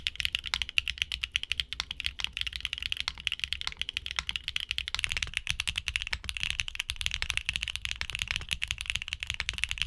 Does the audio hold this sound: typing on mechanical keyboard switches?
yes